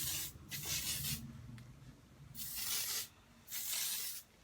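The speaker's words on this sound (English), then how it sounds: "That's when I'm taking my hairspray." Hairspray from an aerosol can sprayed onto hair in three bursts, each a steady close hiss lasting about a second, separated by short pauses with faint rustling and low background hum.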